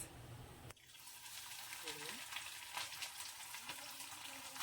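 Chicken lollipop pieces frying in a pan with a spoonful of oil, giving a steady broadband sizzle that runs throughout at close range, with a brief voice-like murmur partway through.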